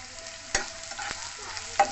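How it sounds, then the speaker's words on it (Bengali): Carrots frying in a pan for a dalia khichuri breakfast, a soft steady sizzle with a few sharp scrapes of a utensil against the pan, close up. "এবার দিয়ে দেবো এতে গাজরগুলো একটু ভেজে নেব"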